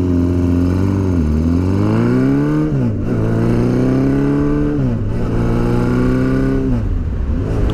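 A hardtail bobber chopper motorcycle being ridden, its loud engine close and droning throughout, with repeated gear shifts and rising revs between them and no talk.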